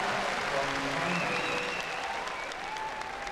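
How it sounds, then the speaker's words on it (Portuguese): Audience applause at the 2008 gymnastics World Cup in Tianjin, a continuous wash of clapping from a large arena crowd, steady and somewhat distant, with a commentator speaking over it. "dá para entender os aplausos"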